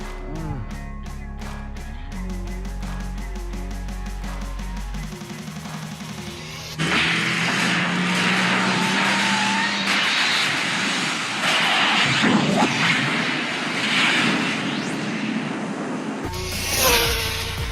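A Rlaarlo X12S RC car with a brushless motor on a speed run: after some quieter opening tones, a loud sustained high-pitched motor whine and rushing roar kicks in and holds for about ten seconds, then cuts off.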